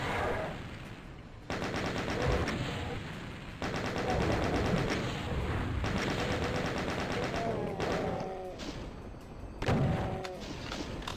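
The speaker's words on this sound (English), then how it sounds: "And then maybe the chain gun, because we want to take care of all these enemies." A chaingun in DOOM fires repeated rapid-fire bursts with fast rhythmic shots and thuds, loud and close, interspersed with other game noises and some talking.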